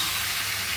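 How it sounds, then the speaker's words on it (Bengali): Mutton poured into a hot pan of fried onion: a steady, loud, close sizzling hiss lasting under a second, with no talking. "এইবারে আমি মাংস ঢেলে রেখে দেব। মাংস এবারে ভালো করে কষাবো।"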